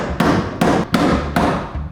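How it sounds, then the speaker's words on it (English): A hammer pounds on a Nissan S13's bodywork: four heavy metallic blows at an uneven pace, loud and close, each leaving a short ringing tail. "Give me that hammer."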